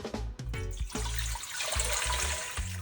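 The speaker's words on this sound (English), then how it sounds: "add my water" Water poured into a pot to make Jamaican-style cornmeal porridge, a steady splashing gush running nearly the whole time with brief breaks and uneven bursts, close and fairly loud.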